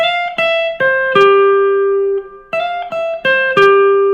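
Clean electric guitar picking a short arpeggio from a guitar solo, individual notes ringing and sustaining in sequence, played twice with a brief pause between runs.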